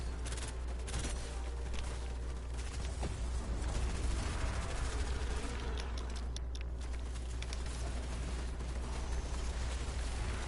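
Gunfire in the Fortnite video game during a zombie-themed event, a dense, continuous barrage of shots and booms layered over a steady low rumble, with no talking.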